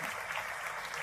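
Audience applause at a Hindi kavi sammelan, a steady wash of clapping from a crowd that holds at an even level for about a second without breaks or voices.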